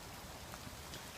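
Rain falls steadily through the woods with a soft, even hiss of drops on leaves and ground. It is faint and continuous, with no voices.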